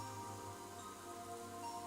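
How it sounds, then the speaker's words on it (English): Rain falls steadily in the visual novel game Umineko: When They Cry, a soft even patter under sustained background music tones. "As we listened to the sound of the rain"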